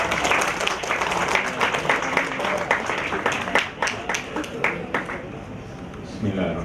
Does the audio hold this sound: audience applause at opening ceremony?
yes